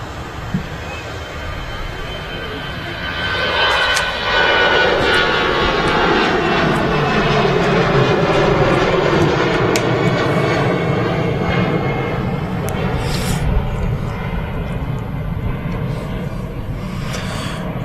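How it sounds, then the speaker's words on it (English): An EasyJet Airbus A320 jet departs Manchester Airport, its engine roar swelling after a few seconds into a loud sustained drone with shifting tones that slowly recedes; a voice speaks faintly beneath. "That EasyJet that just departed is off to Paris Charles de Gaulle. It's an A320"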